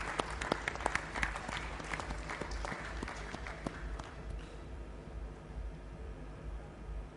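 A forum audience at a corporate panel session gives a round of applause, sharp individual claps standing out at first before the clapping thins into a softer, fading patter.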